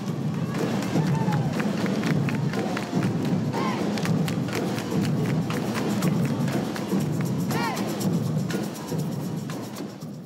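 A dense crowd gathered for the Culture Night Carnival Parade gives off a steady, loud roar of chatter, shouts and footsteps, with brief cheers and whistles rising above the continuous din.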